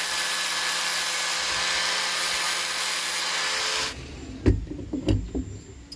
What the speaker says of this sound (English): I'm just going to have to take the sander and lightly go around this